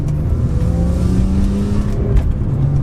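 A high-mileage BMW M3 with an SMG gearbox accelerates with its sunroof open, the engine drone rising in pitch under load, loud and close from inside the cabin.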